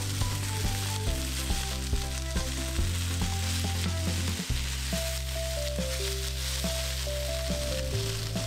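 Garlic butter tiger prawns fry in a pan with a steady, loud sizzle running throughout, joined by a continuous low hum from the stove or extractor.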